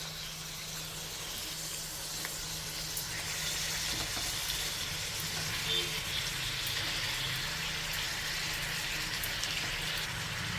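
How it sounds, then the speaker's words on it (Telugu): Skinless broiler chicken pieces on the bone sizzling in a pan with onion pieces and curry leaves: a soft, steady hiss of frying that runs the whole time, fairly faint, with someone talking over it. "మళ్ళీ మనం చికెన్తో పాటు ఫ్రై అవుతాయి ఉల్లిపాయ ముక్కలు"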